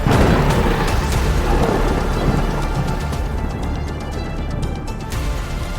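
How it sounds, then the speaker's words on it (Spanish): Thunder rumbles through a storm with rain, a loud low roll that fades gradually over several seconds, with crackling bursts scattered throughout. "los relámpagos destellan y los truenos rugen"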